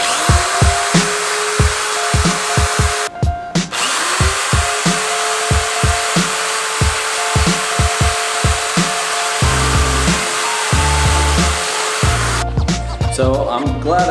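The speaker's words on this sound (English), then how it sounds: "But I'm gonna go ahead and drill those first." A drill bores holes through a primed plastic fender flare for a Ram 1500 pickup, heard as a close, steady run of repeated short whirring bursts with brief pauses between holes.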